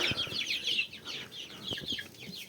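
Roosters eating at close range cluck steadily in soft overlapping bursts, with a continuous murmur of fowl sounds and no talking.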